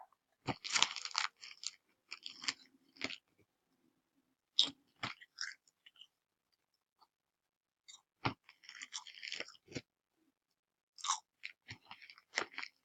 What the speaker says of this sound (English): Eat crisps now. Eat crisps every day.